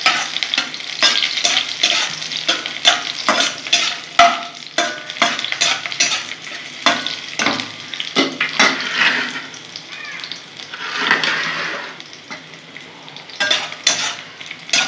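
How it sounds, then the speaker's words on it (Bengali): Garlic and dried red chillies frying in a pan for a pat saag bhaja dish produce a busy, close sizzle, punctuated by frequent scraping and clattering stirs of a spatula against the pan. "রসুনটা হালকা করে ভেজে নেবো।"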